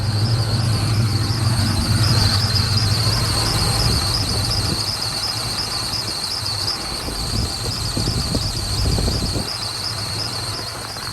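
A car engine runs at a steady idle with a persistent high-pitched squeal and a vibrating rumble, close and continuous, the tone wavering slightly near the end.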